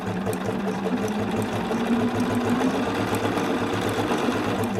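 A regular domestic sewing machine stitches knit fabric, its motor humming in a steady, fast rhythmic whir close by, continuous and even throughout with no talk.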